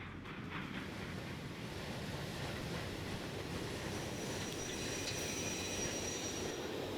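A steam train hauled by a Faster Pacific locomotive in Transport Fever 2 rolls along steadily, a continuous low rumble of wheels and carriages with faint high squeals, heard alone without speech.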